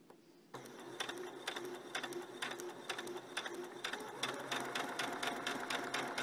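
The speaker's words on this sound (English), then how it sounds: "And then you want to slide it all the way to the right and then start stitching." A sewing machine stitching silky blouse fabric starts up after a short pause, then runs in a steady close mechanical clatter of rapid needle strokes with rhythmic ticks, getting slightly louder toward the end, no talking.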